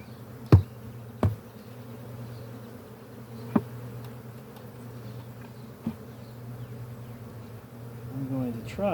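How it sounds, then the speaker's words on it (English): Honey bees buzz in a steady, dense drone as they are shaken off hive frames, with a few sharp knocks and thumps from the frames and a brief voice near the end. "I'm going to shake these bees off."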